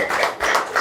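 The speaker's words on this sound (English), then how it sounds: "So please let us clap." A short burst of audience clapping, a few dense overlapping claps lasting under a second, close and fairly loud with no voices over it.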